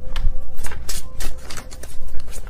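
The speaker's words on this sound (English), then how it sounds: "I don't look at the deck while I shuffle." A deck of tarot cards is riffled and shuffled by hand in a quick run of papery flicks and soft thumps, close and fairly loud.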